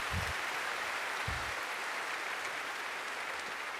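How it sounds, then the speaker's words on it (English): Applause from a large audience at a youth kindness conference, a continuous wash of clapping with two low thumps early on, steady and moderately loud. "A big round of applause to all of you over here."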